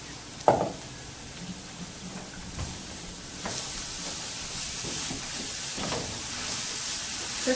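Beets and carrots frying in ghee with cumin seeds give a steady hissing sizzle, broken by several sharp clatters of a spoon stirring in the pan.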